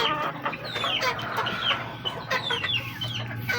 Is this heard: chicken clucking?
yes